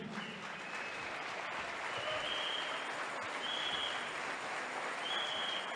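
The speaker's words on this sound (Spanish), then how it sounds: "¿Alguien le puede dar una ofrenda de palmas al Señor?" A church congregation at a Mexican service claps in sustained applause, a dense, even roar of hands close and steady throughout, with faint tonal sounds rising now and then above it.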